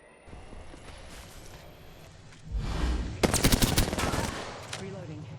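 Gunfire in the video game Apex Legends, a rapid burst of automatic shots after a quieter lead-in, loud and close, with a brief trailing rattle.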